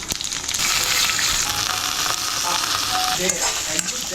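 Dal, curry leaves, green chilies and hing go into hot oil in a kadai for tempering, giving a loud sizzle and crackle of frying with stirring clatter and a few sharp pops nearby.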